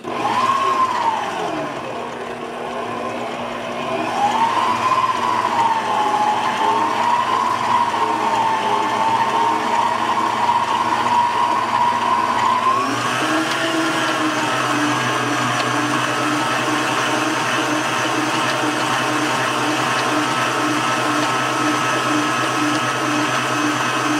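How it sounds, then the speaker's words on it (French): A stand mixer whisks yogurt cake batter with sugar, giving a loud, steady motorized whine close by that shifts pitch and speeds up partway through, running continuously with no talking. "Et là, je vais aller fouetter avec notre robot."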